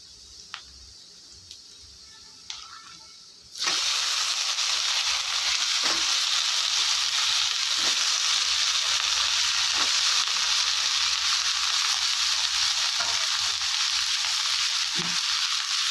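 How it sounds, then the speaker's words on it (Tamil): Eggplant and drumstick pieces drop into a pan of sautéed onions and oil, setting off a loud, steady sizzle that runs continuously after a few quiet taps and clinks at the start, with occasional stirring knocks. "இப்போ பாருங்கள் வெங்காயம் வதங்கிருச்சு இப்போ நம்ம கத்திரிக்காய் முருவங்காய் சேர்த்துடலாம்"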